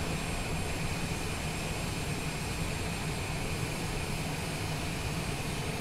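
Steady loud jet engine roar heard from inside a Cessna Citation Longitude business jet on approach to Tucson, an unbroken broadband rush with a faint tonal whine, no speech.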